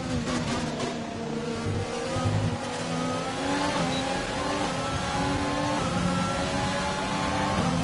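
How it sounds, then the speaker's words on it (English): An F1 race car engine in the F1 2020 video game, racing at the Canada circuit with the Jaguar team, drones loud and continuous with a steady high whine that shifts slightly in pitch, with no voices over it. "Big slipstream from Matsushita down the straight"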